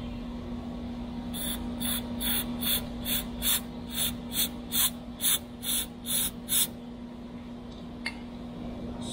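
Starting fluid is sprayed into the carburetor of a Craftsman V20 pressure washer engine that will not start, in about a dozen short, even hissing bursts. The spraying is close, over a steady low electrical hum.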